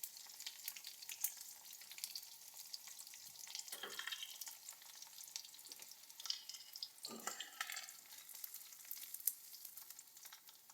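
Petai frying in a pan for sambal, a soft steady sizzle with broadband crackle running throughout, broken by a few louder scraping stirs of a utensil against the pan.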